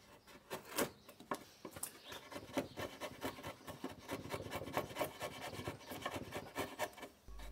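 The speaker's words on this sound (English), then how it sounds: "Finish by putting away the mallet and flattening the bottom of the trench with paring cuts from your chisel." A hand chisel makes paring cuts to flatten the bottom of a trench in reclaimed pallet wood, a series of close, quiet, uneven scraping and rasping strokes with no talking.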